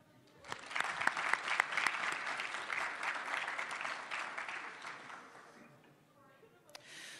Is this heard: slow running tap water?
no